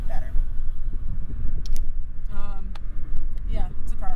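Low, constant rumble of a car in motion with road and wind noise, while someone talks over it intermittently.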